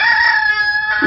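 A rooster crows once, a loud, bright, sustained call heard close up and alone.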